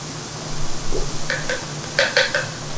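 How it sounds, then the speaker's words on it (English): Canned beans pour and clatter into a metal strainer, a few short bright splashy bursts close by over a steady low hum, with no talk. "We're going to strain these beans."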